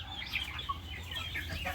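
Broiler chickens on a small poultry farm give soft, brief clucks and chirps against a low, steady background hum, faint and close.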